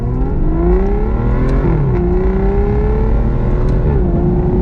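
Loud Aston Martin Virage engine pulls hard under acceleration through a torque-converter automatic, its pitch climbing then dropping at gear changes, with a couple of sharp little pops.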